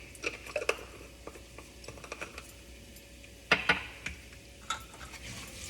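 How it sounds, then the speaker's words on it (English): Cumin seeds roast in hot oil alongside browning mustard seeds, giving a faint, steady sizzle dotted with small pops and light spoon stirring against the pan. "while this cumin is roasting"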